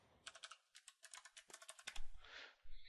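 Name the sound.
typing a command on a computer keyboard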